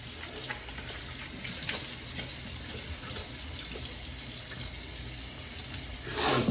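Water runs steadily from a bathroom tap as someone wets their face before a shave, a constant hissing splash heard alone at moderate level, growing a bit louder at the very end.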